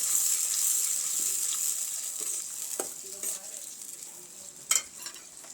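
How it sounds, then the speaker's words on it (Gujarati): Curd stirred into a sizzling gunda curry in a pan: a hiss that fades gradually under scattered spoon clicks and scraping, with one louder clatter near the end and no voices. "હવે આપણે આમાં દહીં ઉમેરી દઈશું"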